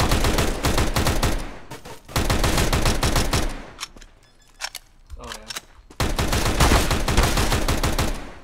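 Loud, rapid AK rifle bursts in Counter-Strike: Global Offensive, several sustained volleys separated by quieter gaps with scattered smaller sounds.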